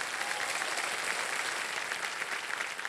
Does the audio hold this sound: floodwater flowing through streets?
no